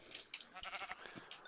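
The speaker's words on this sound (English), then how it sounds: "Another escaped sheep." A sheep in a video game gives a short, wavering bleat, close and clear, lasting about a second and a half.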